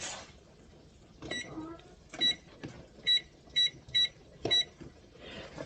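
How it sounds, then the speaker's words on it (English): A kitchen timer is set for thirty minutes, giving a series of short, sharp electronic beeps from button presses, spaced irregularly and close by. "I'll set the timer for 30 minutes"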